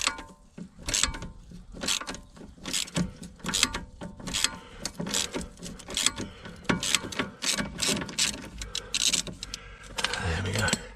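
A 17mm spanner works a bolt on the shock absorber bracket of a BMW 1 Series, giving a run of quick metallic clicks and ratcheting taps with scraping between them. A voice speaks at times over the close, fairly quiet sounds.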